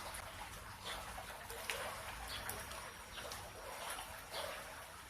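Water poured over a bicycle inner tube to find a puncture gives a steady close splashing and trickling wash throughout, with no talk.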